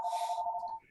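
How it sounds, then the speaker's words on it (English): A phone rings during a teleconference, a single electronic ringing tone lasting under a second, fairly faint and heard alone before cutting off. "Sorry about the phone."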